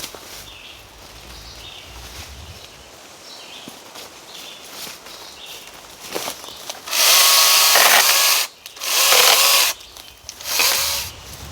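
Power tool cutting tree branches into firewood at a campsite, three loud bursts of whining cutting noise in the second half, each a second or two long, following quieter footsteps and handling sounds.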